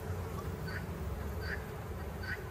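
Honey bees hum steadily inside an opened hive during a brood inspection, a continuous low drone with a few individual bees buzzing slightly louder and closer.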